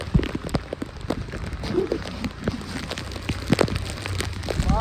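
Steady rain patters and splashes on surfaces nearby, with scattered louder drops throughout and no talking.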